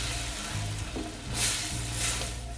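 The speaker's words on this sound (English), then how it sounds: "Then add tomato puree. Keep mixing, do not burn the paste." Onion paste and tomato puree fry in a pan for street-style Lahori chikar cholay, a steady close sizzle with stirring scrapes and two brief louder surges as the mix is turned.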